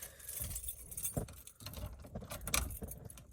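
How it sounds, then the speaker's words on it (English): Car keys jangling during an Acura Integra instrument cluster swap, a quiet, close metallic clinking and rattling with a few sharper jingles over about three seconds. "let's get the key"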